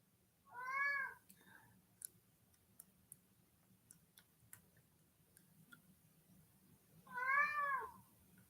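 A cat gives two clear drawn-out meows, one near the start and one near the end, with faint regular ticking clicks in the quiet gap between them; no speech.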